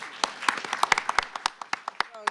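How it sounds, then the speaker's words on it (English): A small audience at an education workshop claps briefly, sharp scattered hand claps close by that thin out and fade within a couple of seconds. "You can all clap for Sharon"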